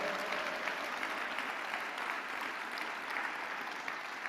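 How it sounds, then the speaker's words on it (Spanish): Congregation applauding during a Sunday church service, a steady, moderately distant wash of many hands clapping that continues evenly for several seconds. "Dale un aplauso bien fuerte al Señor."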